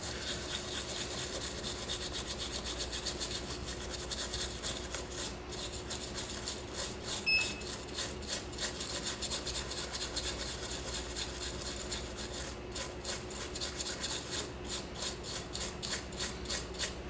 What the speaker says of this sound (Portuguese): Vamos limpar bem, que caiu um pouco de solda aqui.